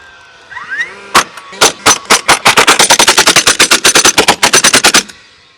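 Rapid burst of hammer blows driving nails into boards for a dog house shelter build, about two dozen sharp close impacts in an accelerating, steady rhythm, loud and alone with no talk.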